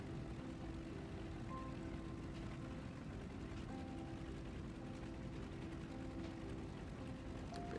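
Steady low drone of a Junkers Ju 52 tri-motor tail-dragger's engines idling while taxiing in Microsoft Flight Simulator, a continuous even rumble with faint mechanical ticking and no voices.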